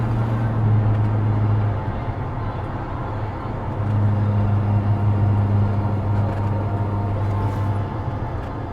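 1967 Ford F-100 pickup truck driving on the road, a steady low engine drone with road and wind noise heard from inside the cab.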